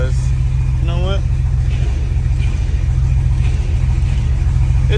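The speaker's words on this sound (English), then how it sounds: "my Jeep's been running this whole time" A lifted Jeep Grand Cherokee ZJ runs nearby with its engine holding a steady, low, even rumble throughout, and a voice is briefly heard over it.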